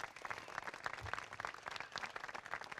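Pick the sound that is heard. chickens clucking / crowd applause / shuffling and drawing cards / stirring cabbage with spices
crowd applause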